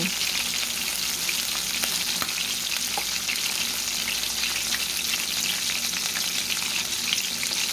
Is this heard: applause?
no